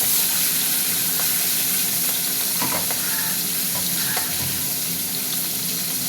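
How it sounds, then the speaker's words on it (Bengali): Four fish heads frying together in hot oil give a loud, steady sizzle throughout, with a few soft scraping and stirring clicks over the constant hiss. "এবার মুড়োগুলো দিচ্ছি। একসঙ্গে চারটেই ভেজে নেব।"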